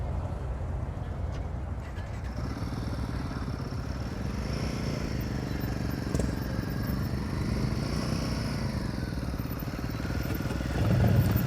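Motorcycle ridden at slow speed during an advanced riding practice session in Washington, a steady low engine rumble with slight rises and falls, ending in a louder surge near the end.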